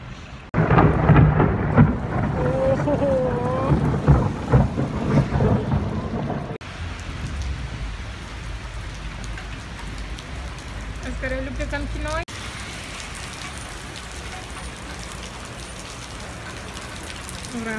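Heavy rain and thunder during a spring storm outdoors, a steady loud wash of rainfall with low rumbling, with people talking over it in the first part before the rain continues alone.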